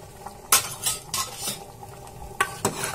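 A metal spoon clinks and scrapes against a pot as half a tablespoon each of coriander powder and garam masala is stirred into dal palak in a pressure cooker, with a few distinct close taps and scrapes and no talk.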